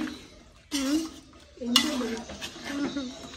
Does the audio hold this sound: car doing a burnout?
no